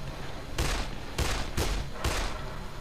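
Gunfire in a zombie shooter video game: four loud, evenly spaced bursts of shots, each with a sharp attack and a short decaying tail, over a constant low background.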